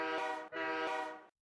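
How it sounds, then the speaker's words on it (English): Two long blasts of a train horn, the first about half a second, the second slightly longer and tapering off, loud and close with no voices. "A horn drew his attention."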